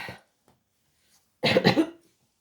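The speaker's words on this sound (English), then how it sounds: "Excuse me, coughing." A short burst of coughing, two or three rough hacks close to the mic after a moment of silence.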